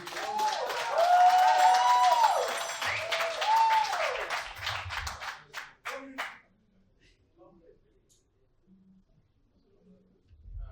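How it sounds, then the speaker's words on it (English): Audience applause for a speaker at a talk on Kenyan development, dense clapping with a voice over it for several seconds, then thinning to scattered claps and near silence. "Clap for Buka, please clap for Buka"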